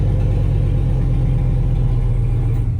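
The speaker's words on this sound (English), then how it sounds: "I can start the truck up" A Chevrolet Silverado truck engine idles loud and close, a steady deep rumble with no break and no voices.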